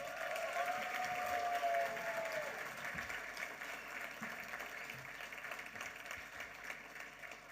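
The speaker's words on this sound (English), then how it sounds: "I think he deserves another round of applause for that" An audience at an awards ceremony for a Kiwi-Indian hall of fame claps in sustained, fairly distant applause that slowly fades, with a voice briefly heard over it early on.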